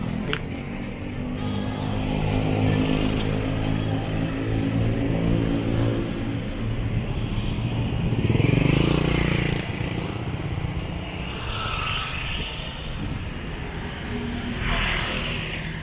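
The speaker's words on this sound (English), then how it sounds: "So little kid on a motorbike, lots of tuk-tuk." Busy street traffic in Chiang Rai, with motorbikes and tuk-tuks droning and revving past continuously and close by, one louder vehicle surging through near the middle, with no talk.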